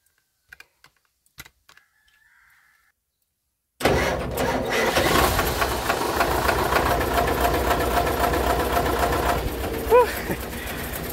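A few faint clicks, then a starter motor under the vehicle, wired directly past a faulty ignition switch, cranks loudly and steadily for about seven seconds, close by.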